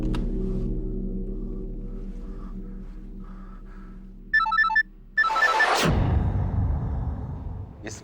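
A telephone ringtone chirps briefly in a quiet room in a Hindi detective drama, followed by a loud rushing burst; low background hum sits underneath throughout.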